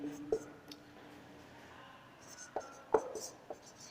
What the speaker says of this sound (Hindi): तो यहाँ अपन लिखते हैं कि